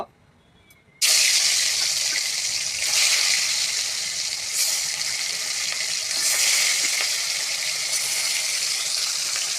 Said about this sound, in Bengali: এখানে তেল গরম হয়ে গেছে এখন মাছ ভেজে নেব